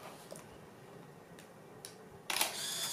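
Yashica Microtec AF compact film camera firing with its flash: a few faint clicks, then a sharp shutter release with a brief whirring wind-on at the end, close up and alone.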